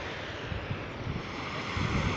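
Sea waves wash onto a beach near Tuapse in a continuous broad roar, heavy with wind buffeting the microphone and a few low surges as the surf rolls in.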